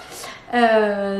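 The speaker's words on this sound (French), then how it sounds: "Ah, ça c'est le chat qui pleure." A cat cries with one drawn-out, tonal meow that rises in and holds steady for about half a second, close and fairly loud after a brief softer sound.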